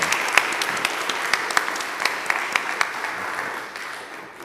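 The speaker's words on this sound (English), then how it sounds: "One more round of applause for all those receiving awards and all they have done for UUCA." Applause from an annual meeting audience honoring award recipients, sustained moderately loud clapping with a few sharper nearby claps, gradually thinning toward the end.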